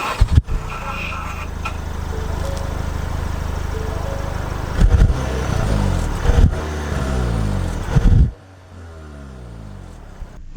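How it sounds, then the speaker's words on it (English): A 2022 Ford Maverick FX4 pickup pulls away, its engine a steady mid-pitched drone with a couple of rev surges before cutting off near the end. A few bumps are audible but no clear talking. "We are setting off here in the Ford Maverick"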